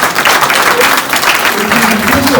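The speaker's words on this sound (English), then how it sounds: "I want us to clap for our president" A university audience of students claps for their president, a dense, loud, continuous wash of many hands with some crowd noise mixed in.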